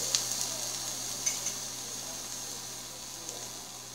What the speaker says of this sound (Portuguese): pode ver aí, tá fervendo a água